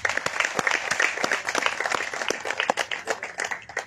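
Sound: audience applause

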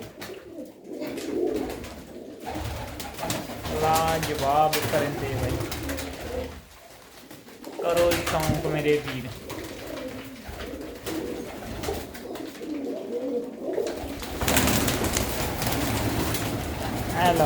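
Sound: pigeons cooing in a loft

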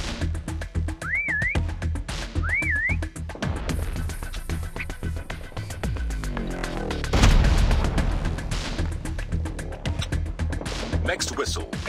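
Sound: prop hunt whistle in video game Call of Duty

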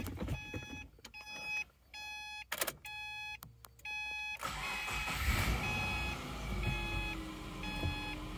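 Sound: car engine starting

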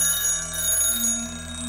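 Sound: alarm clock ringing

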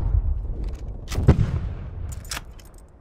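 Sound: artillery fire in video game Call of Duty Cold War

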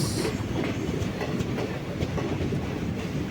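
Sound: Karaikal Express train passing

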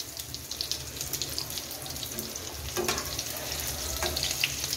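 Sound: frying egg-coated beef boti kebabs in pan

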